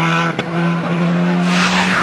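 A rally car at Rally Germany 2007 spins off the road onto the grass, its engine roaring loudly and continuously with a tonal drone and a brief sharp skid or tire scrub, no talk over it.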